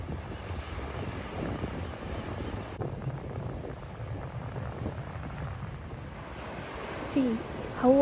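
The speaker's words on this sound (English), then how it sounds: "See how water rushes through caves as waves hit other side of rock." Ocean waves rush through sea caves in the rocks at Coquille Point, Bandon, on the Oregon coast. The surf makes a steady, fairly faint low wash, and wind buffets the microphone.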